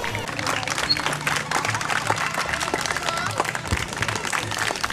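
Applause from the audience at a school tribute ceremony keeps up steady, dense clapping throughout, with crowd murmur mixed in.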